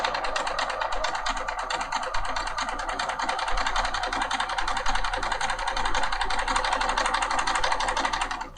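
A Bernina 5 Series sewing machine stitches steadily with a fast, even mechanical clatter, close and continuous throughout.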